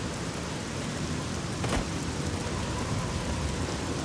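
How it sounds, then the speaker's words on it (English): Steady, dense rainfall from the video game Fallout 3 hisses evenly throughout, with a brief sharp crackle near the middle that may be distant thunder; no voices. "God, what's up with all this rain? It's been raining, like, non-stop."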